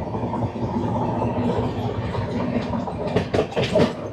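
The 12369 Kumbh Express from Howrah to Haridwar rumbles steadily along the rails, a dense continuous roar heard from inside a coach, with a few clickety-clack wheel beats rising near the end.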